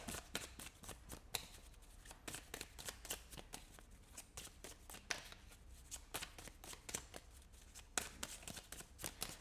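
A deck of tarot cards riffles and slides in rapid, crisp bursts, close and fairly quiet, with repeated flicks and shuffles continuing throughout and no talking.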